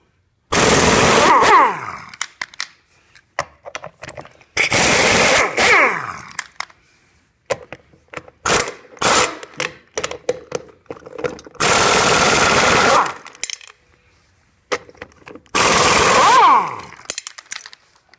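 A power tool takes the rear wheel off a Raptor 700 quad in loud, rapid hammering bursts of about one to two seconds each. Short clicks and gaps fall between the bursts.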